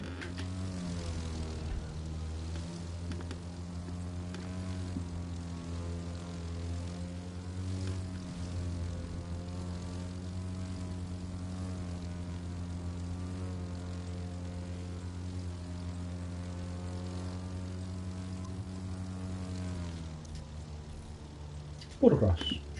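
A low-flying propeller airplane in the racing game The Crew 2 drones with a steady, continuous engine hum for the whole stretch, ending in a short, louder burst of noise.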